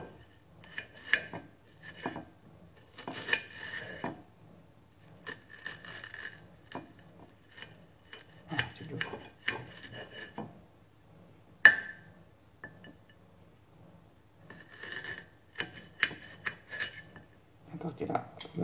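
A kitchen knife thinly slicing beetroot and onions on a cutting board for a caramelised dish, a run of quick, crisp chopping taps in irregular bursts with a few pauses and one sharp knock, close and fairly quiet.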